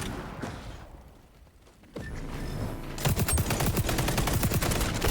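Rapid gunfire in the online shooter XDefiant. A quiet stretch and a thud give way to a dense, loud run of fast shots that fills the second half.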